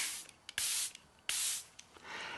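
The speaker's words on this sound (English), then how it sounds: "So I'm just going to spray this over" Two close, steady hissing sprays of a makeup setting spray mist bottle, each lasting around half a second, followed by a softer third spray.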